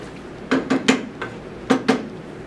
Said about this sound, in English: And then we just stir that up.